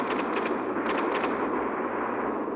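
Rockets launch in the mobile game Solar Smash as a dense, loud rumbling roar of rapid bursts and booms, continuous throughout with clustered crackling pulses near the start, and no talking.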